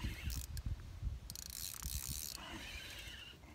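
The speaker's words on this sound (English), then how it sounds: "I hear a little drag screaming there" A fishing reel's drag buzzes and clicks in quick, ratcheting bursts as line is pulled out, fairly close and without talking.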